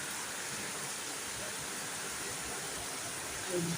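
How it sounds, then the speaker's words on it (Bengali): Heavy rain pours down outside a dark veranda, a steady, faint wash of noise with no breaks and no voices. "প্রচুর জোরে বৃষ্টি হচ্ছে"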